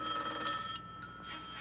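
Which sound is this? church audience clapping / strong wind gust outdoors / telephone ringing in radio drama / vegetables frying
telephone ringing in radio drama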